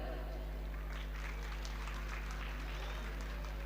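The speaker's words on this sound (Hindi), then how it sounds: "जोरदार तालियों के साथ इनका स्वागत करते हैं।" Audience at a school performance clapping to welcome young students, a steady wash of applause heard faintly under a loud constant hum, with voices mixed in.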